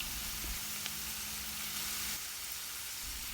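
Okra pieces frying in hot oil give off a steady, soft sizzle and crackle, fairly quiet and continuous throughout, with no voices.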